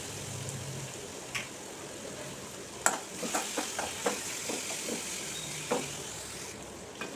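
Chopped onions for a chicken curry sauté in a pan with a steady, soft sizzle, broken by a series of brief scraping and clattering stirs near the middle.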